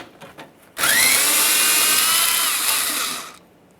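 Close power drill or impact driver spins out a 10mm-headed bumper cover mounting bolt on a 2009-2014 Nissan Maxima 3.5L V6, one steady high whine lasting over two seconds, then stopping.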